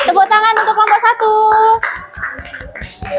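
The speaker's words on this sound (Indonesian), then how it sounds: "Tepuk tangan untuk kelompok 1." Classroom applause for a group of pupils, with children clapping in quick bursts close by between bright sung and spoken voices.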